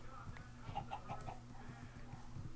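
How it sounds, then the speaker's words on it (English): Video game chickens cluck in a quick run of soft, short clucks, faint and a little distant, with no talk over them. "hey, there's some chickens."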